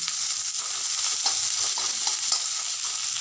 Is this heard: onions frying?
yes